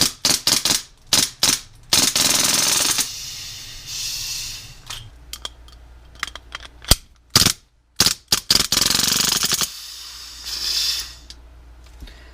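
Umarex M712 Schnellfeuer CO2 BB machine pistol firing full auto, rapid bursts of sharp cracking shots with gassy hiss, several loud close strings separated by pauses, with no speech.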